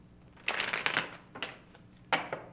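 A deck of tarot cards is shuffled close up in three quick bursts of riffling and rustling, separated by brief pauses, with no talking over it.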